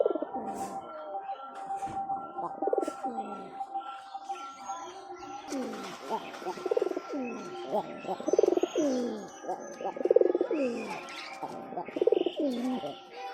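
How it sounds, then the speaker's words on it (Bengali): Hunting pigeon in a village cooing repeatedly, a series of low throaty coos in a steady rhythm, fairly close, with a few small chirps in the background. "শিকারি পায়রা।"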